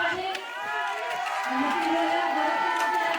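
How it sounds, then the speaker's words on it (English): Spectators cheer at a European ice climbing speed final in Champagny-en-Vanoise, a steady roar of crowd noise with a swelling cry partway through, blended with voices and announcer-style talk. "Big cry from the crowd below, from all of her French athletes, her fellow teammates."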